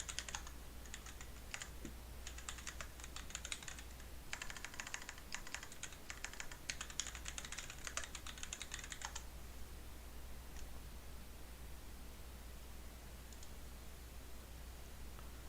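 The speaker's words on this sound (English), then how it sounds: "So let me check out the keyboard that I have." Fingers type on a white computer keyboard in quick, dense bursts of light clicks for about nine seconds, then stop, leaving only a faint steady hum and a couple of stray taps.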